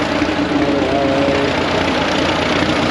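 A Case tractor idles at the Smoky Valley Hook 2024 tractor pull, a loud steady diesel rumble that holds constant throughout with no voices over it.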